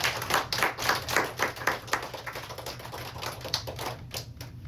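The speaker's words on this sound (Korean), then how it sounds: "박수로 좀 환영해 주세요." Church congregation applauding during a seminar, a loud, steady, dense clatter of many hands clapping for several seconds, with no talking over it.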